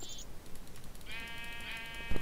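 Sheep bleat in the video game Minecraft, giving a couple of short, faint, nasal cries against a quiet backdrop, ending in a brief thump.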